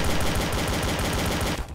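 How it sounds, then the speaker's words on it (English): Rapid repeated gunfire from a flare gun in the game Trouble in Terrorist Town, loud and continuous for most of the clip before cutting off abruptly, with no talk over it. "he died from the shot of the flare gun"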